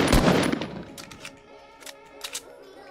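A burst of rapid SMG fire in the Fortnite video game opens loudly, then fades into a few scattered, fainter shots and clicks.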